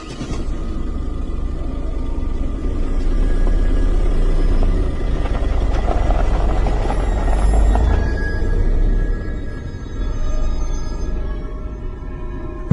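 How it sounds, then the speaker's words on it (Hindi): A car engine rumbles steadily and fairly loud as the vehicle pulls out of a parking lot onto the road, a low continuous drone with no voices. "मैंने गाड़ी स्टार्ट करी और पार्किंग से निकल गया।"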